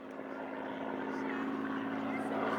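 Propeller aeroplane flying at the Old Buckenham Air Show, a steady, loud droning engine and prop hum holding throughout with slight rise toward the end.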